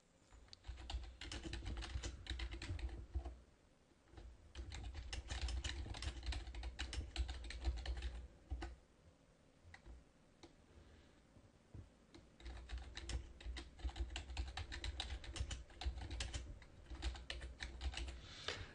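Steady typing on a computer keyboard while entering notes into the WorkFlowy online outliner, with dense bursts of keystrokes broken by a couple of short pauses, close and fairly quiet.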